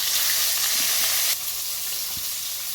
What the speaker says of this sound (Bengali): আমি সরপুটি মাছ কেটে বেছে ধুয়ে হলুদ লবণ নিচে রেখেছিলাম সেটাকে আমি ভাজা বসিয়ে দিলাম